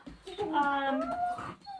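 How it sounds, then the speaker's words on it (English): Dogs playing indoors let out a drawn-out whimpering whine, close and moderately loud, with a person talking nearby. "I'm sorry, my dogs are playing down here."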